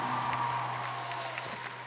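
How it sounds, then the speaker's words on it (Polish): Applause from a crowd at Atlas Arena in Łódź, greeting the first gong at the opening of the 8th Przystanek PaT event: a steady, faint wash of distant clapping over a low hum. "I brawa za pierwszy gong"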